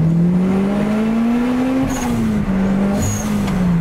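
A Lotus Elise Turbo pulls hard in second gear, its engine note climbing steadily and loudly from close by, with a brief dip near the middle before it rises again. No one speaks.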